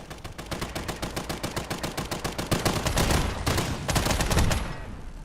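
An upgraded, more powerful turret in Fallout 4 lets loose long, rapid streams of automatic gunfire, loud and close, with rattling shots running together and swelling into heavier sustained bursts near the end.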